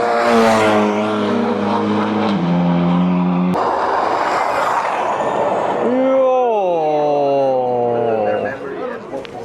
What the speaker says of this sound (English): So that's the all-electric car from VW, and that thing has got so much torque